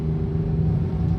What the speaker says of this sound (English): Wow, turbo spooled.